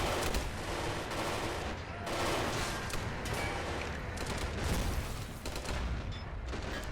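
Sustained World War II battle din from a video game, with 25-pounder field guns and small-arms fire blending into a dense, continuous roar of overlapping shots and blasts, loud and close throughout.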